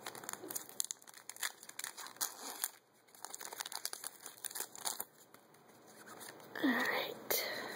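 A Pokemon Rayquaza booster pack's foil wrapper is crinkled and torn open close up, in bursts of sharp rustling and tearing with brief pauses, and a soft voice murmurs near the end.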